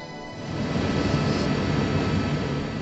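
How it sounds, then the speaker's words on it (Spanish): A helicopter flies over Rome, producing a steady loud broadband engine drone that swells in and holds without pause. "El helicóptero sobrevolaba Roma"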